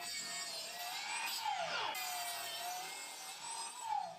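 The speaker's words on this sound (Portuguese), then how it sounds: "Primeiro, faço um corte preciso na peça usando a serra de mesa." A table saw cuts a wooden piece with a smooth, high whine that swells and dips as the wood feeds through the blade. The sound is continuous and close, with a louder sweep near the middle.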